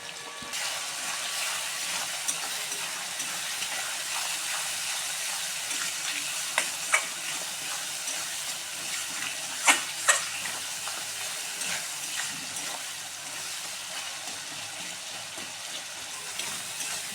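Tomato with slit green chilli and Kashmiri chilli powder stirred in a frying pan for egg pasta, a steady close sizzle running throughout with a few sharp clinks of the spoon against the pan and no talking.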